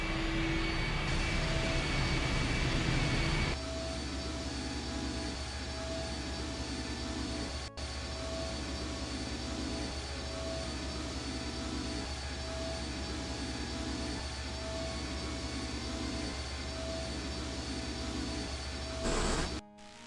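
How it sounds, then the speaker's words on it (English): A vehicle engine in the video game I Have No Mouth And I Must Scream turns over and settles into a steady, loud, jet-like mechanical hum with a rhythmic pulse, sounding alone throughout. "The engine's starting up again."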